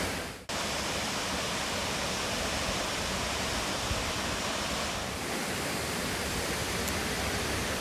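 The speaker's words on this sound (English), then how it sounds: "see if I can make a nice long exposure of the water pouring into that basin" Pistyll Rhaeadr waterfall pouring into its rocky basin, a steady, dense rushing roar that fills the whole stretch at close range after a brief bump at the start, with no voices.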